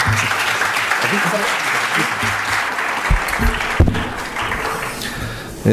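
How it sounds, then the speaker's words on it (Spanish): An audience applauds to welcome a speaker at an evening law lecture, steady dense clapping from a crowd filling the room, fairly loud with a few sharper individual claps standing out near the end. "Lo recibimos con un fuerte aplauso, por favor."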